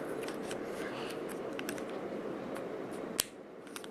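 Small compact folding scissors are flipped shut and their cover is pushed on, giving soft handling clicks and one sharp snap near the end over a steady background hiss.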